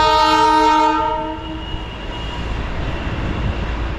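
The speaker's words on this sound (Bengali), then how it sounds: "দার্জিলিংয়ের বিখ্যাত টয় ট্রেন চলে গেল আমার পাশ দিয়ে বাতাসিয়া লুপের মধ্যে দিয়ে।" The Darjeeling toy train blows a loud sustained horn while passing close through Batasia Loop, the blast fading into a steady rumble of rolling wheels and engine as it moves away.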